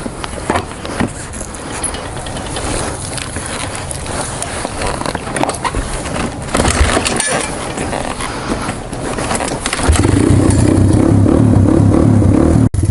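Honda XR200R dirt bike on a cold start with a grabby clutch, its single-cylinder engine held at raised revs, a steady close rattling drone that swells louder and heavier near the end.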